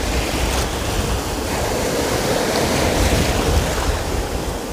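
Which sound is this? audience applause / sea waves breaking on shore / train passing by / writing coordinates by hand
sea waves breaking on shore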